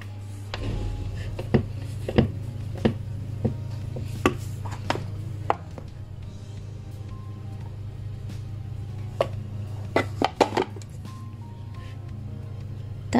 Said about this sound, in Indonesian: aku kalau ngaduk kue kering dengan cara dicacah seperti ini